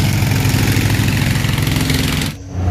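A steel boat's engine drones loud and steady, close by, as the boat turns around on a fast-flowing river, then the noise dips briefly near the end.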